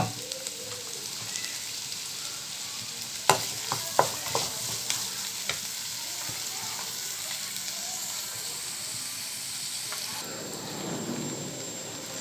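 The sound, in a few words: onions sautéing and sizzling in hot oil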